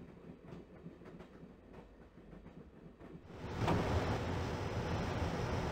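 Moving train in the Broken Sword video game, a steady mechanical rumble with faint rhythmic clatter that swells abruptly louder partway through into a dense, continuous roar, heard alone without speech.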